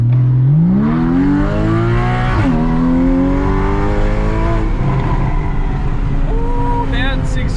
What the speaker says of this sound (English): Ooh, that exhaust sounds so good